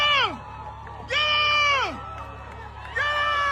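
Crowd cheering at a race finish, heard through a played video: three loud bursts of whooping, shouting voices with rising and falling pitch, separated by brief quieter gaps.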